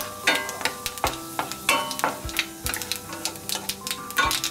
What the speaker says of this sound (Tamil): இதுக்கு ஒரு ஏலக்காய் ஒரு 1/2 டீஸ்பூன் வந்து சோம்பு வந்து தாளிக்கிறோம்